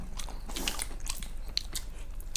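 Close, moist chewing of a mouthful of chilli paneer from a restaurant-style dish served with paratha: soft crunches and squelchy bites over a steady background hiss.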